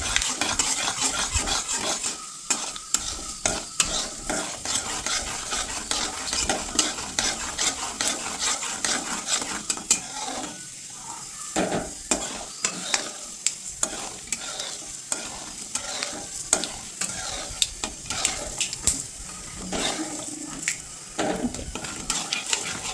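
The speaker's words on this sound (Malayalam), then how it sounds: "കുറച്ച് കടുക്, കുറച്ച് ഉഴുന്ന്, ഇതൊന്ന് കരിയ കൊടുക്കാം." Mustard seeds and urad dal fry in hot oil in a pan for masala dosa tempering, a steady close sizzle broken by frequent stirring and spoon scrapes against the metal, with no voices.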